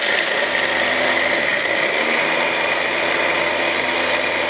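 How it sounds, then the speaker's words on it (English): A food processor grinds half a cup of walnuts into fine flour, a loud, steady whirring motor drone with a gritty high whine, running continuously without pause or voices. "we're just going to put a half a cup of the walnuts in our food processor, and we're just going to grind it up really fine"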